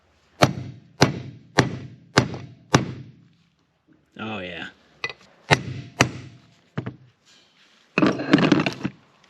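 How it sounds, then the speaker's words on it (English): Sharp metallic taps of a brass hammer on a socket ring out in a quick series of five, then a few more spaced strikes, seating seals on a 1939 Caterpillar D4 engine, with a short spoken remark and some rustling between. "I'm going to use this socket and a brass hammer"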